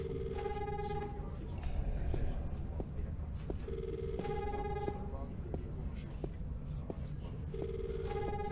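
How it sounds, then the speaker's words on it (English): A video phone in The Longest Journey video game rings in repeated electronic bursts, three evenly spaced trills separated by pauses, steady and clear against a faint background hum. "Hey, there's a phone call for you."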